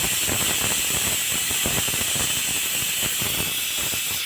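Steam hissing loudly and steadily from a pressure cooker on the stove while sprouted mixed legumes cook, with a rapid rattling, chattering under the hiss throughout.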